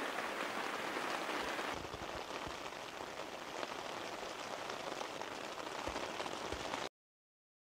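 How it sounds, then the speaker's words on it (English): Heavy rain drums on a tent during a mountain hunting trip. The patter is dense and steady, with occasional heavier drops, then cuts off abruptly into silence. "just piled into my tent because it's starting to rain pretty heavy"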